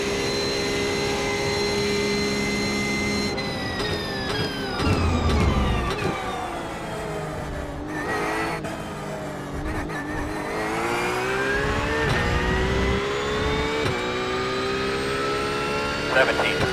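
A Ferrari GT3 race car in iRacing screams through the gears, its engine rising and dropping in long revving sweeps with sharp shifts, loud and continuous across the run.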